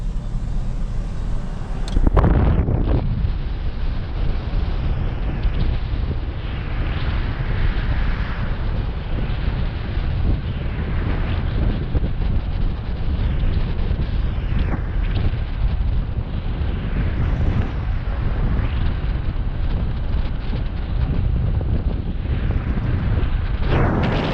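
Wind gusts across the Huai Kho dam reservoir in Na Chueak, Maha Sarakham, Thailand, buffeting the microphone with a constant low roar that rises and falls in waves for the full stretch.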